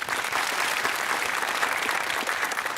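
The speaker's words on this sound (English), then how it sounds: "Very nice to see you applauding each other." Studio audience at a Christmas University Challenge semi-final applauding, a dense steady patter of many hands clapping at moderate volume from start to finish.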